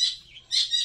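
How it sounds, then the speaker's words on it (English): A noisy bird chirps in a home kitchen during cooking, giving a few quick, high, bright twitters in two short bursts, fairly close and alone. "The bird is very noisy."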